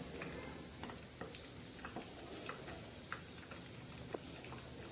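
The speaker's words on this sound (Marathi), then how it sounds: "छान असे भजे आपण तळत आहोत" Moong and urad dal bhaji fritters frying in oil, a faint steady sizzle with scattered small pops and light ticks, quiet and continuous throughout.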